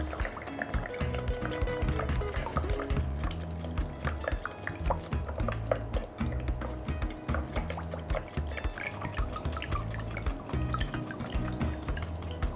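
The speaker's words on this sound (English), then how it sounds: "This is my sieve. I'm sieving it to remove the chaff from it." Wet millet dough being pushed through a sieve for Hausa koko, giving a steady, close wet sloshing and squelching with dripping liquid and soft scraping throughout, no voice.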